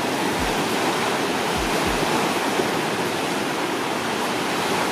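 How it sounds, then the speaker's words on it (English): Ocean surf rolls steadily onto African Beach in Takoradi, Ghana, a continuous, loud wash of breaking waves with no pauses and no voices. "We are in Takoradi at African Beach."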